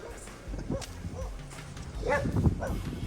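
Street dogs on a war-era battlefield site on Tarawa bark and yip in a few short bursts at moderate distance, with outdoor ambience around them.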